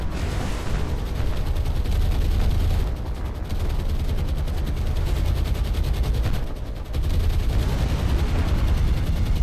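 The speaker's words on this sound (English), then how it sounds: "One torpedo hits." Torpedo hits and gunfire in the naval combat game War on the Sea, a dense, loud rumbling barrage of rapid firing and booming explosions that dips briefly twice before surging again.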